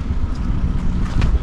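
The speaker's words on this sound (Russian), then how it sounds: "Еще и ветер." Wind gusting outdoors on a slippery winter day, a continuous low rumbling roar buffeting the microphone, loud and unbroken with no voices.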